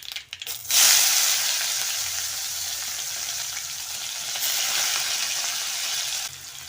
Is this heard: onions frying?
yes